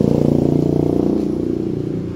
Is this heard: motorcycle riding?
yes